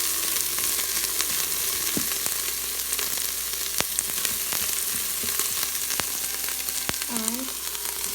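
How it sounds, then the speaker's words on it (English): Dried shrimp and rice stir-fried and stirred together in a pan for Chinese sticky rice, a continuous loud sizzle with scattered clinks and scrapes of the utensil, no voices. "And keep stirring that together for 2 or 3 minutes."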